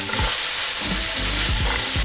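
Chopped leek with a pinch of salt sizzles steadily in a hot pan for a creamy mushroom, garlic and leek pasta, loud and close, with a few scraping stirs breaking through the constant frying hiss.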